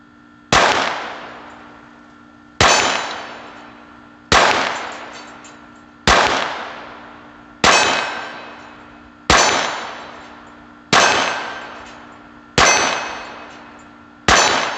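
A Taurus TX22 .22 pistol fires eight sharp, evenly spaced shots, each with a bright metallic ring that fades before the next one, close and loud.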